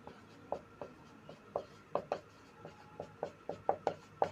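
Chalk writing on a classroom blackboard while solving a maths problem: a series of short scraping strokes and taps in an irregular rhythm, close and fairly quiet, with no talking.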